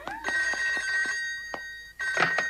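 A telephone bell rings in an animated cartoon scene, a steady electronic trill heard close over a short background, briefly pausing before sounding again.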